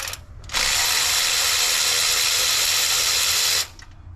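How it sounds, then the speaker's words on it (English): Power tool running on a car engine during an engine swap, a steady loud whirring ratchet or drill burst lasting about three seconds, starting and stopping abruptly with no talk. "we'll go all out with the power tools if possible"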